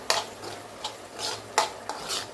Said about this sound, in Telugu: ఈ విధంగా ప్యాన్కి సపరేట్ అయ్యేంత వరకు ఫ్రై చేసుకోవాలి